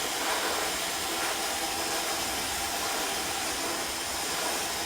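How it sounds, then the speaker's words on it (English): A Dyson blow dryer runs continuously with a broad, steady airy hiss and whine that holds a constant level throughout, close by and with no other sound. "So the Dyson blow dryer is supposed to be like the biggest, greatest thing"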